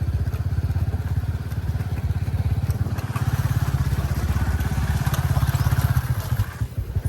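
A motorcycle idles and putters close by on a farm path near a temple, its engine pulsing in a fast, even thump that rises slightly before cutting off near the end.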